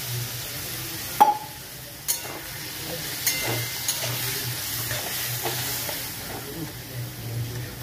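Banana chorchori with fried prawns, mashed spices and a little water simmers in a pan with a soft, continuous sizzle and hiss, broken by a few sharp utensil knocks, close up and without speech.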